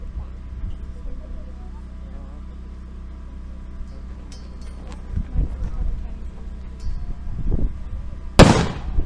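A WW2 reenactment weapon is fired at a P.O.W. camp open house in Concordia, Kansas. Steady crowd murmur and talk run throughout, then a single sharp, loud bang cracks out near the end.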